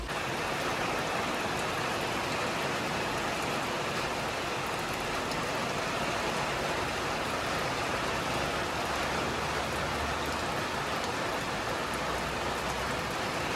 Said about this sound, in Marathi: पावसाचा आनंद लुटूया तोपर्यंत